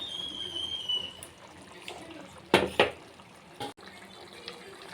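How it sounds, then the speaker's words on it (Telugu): Tamarind juice is poured into an egg and drumstick curry in a couple of brief, close splashing bursts against a quiet kitchen background. "ఇప్పుడైతే నేను ఇందులో అయితే కొద్దిగా చింతపండు రసం అయితే వేస్తున్నాను"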